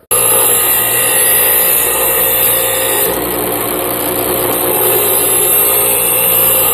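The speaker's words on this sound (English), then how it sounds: "After the grinder is up to speed, you're going to want to do nice smooth passes from one end to the other" A bench grinder runs at steady full speed while sharpening a lawn mower blade, a loud continuous high whine with a grinding hiss that shifts slightly midway as the blade passes across the wheel.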